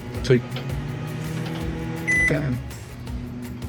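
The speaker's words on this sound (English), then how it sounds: "this is just a little basic microwave for you to use when you're off grid" A small basic microwave oven in an off-grid Promaster camper van hums steadily with a low drone and a brief high tone, while a person talks over it.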